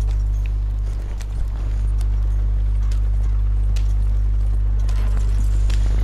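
Hoofbeats of a horse in Red Dead Online clop steadily beneath a loud, constant low drone, with no one speaking.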